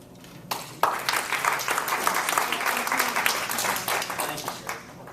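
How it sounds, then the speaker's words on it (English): Applause at a Toastmasters club meeting: a small group starts clapping after a quiet moment, the sound building quickly into steady, crisp clapping that thins out toward the end. "another round of applause for the Toastmaster"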